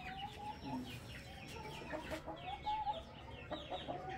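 Hens on a small farm clucking steadily in a quiet yard, soft repeated calls from a few birds at moderate distance, with no talking.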